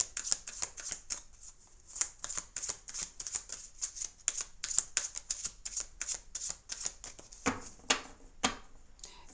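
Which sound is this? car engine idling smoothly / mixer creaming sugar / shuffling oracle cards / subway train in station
shuffling oracle cards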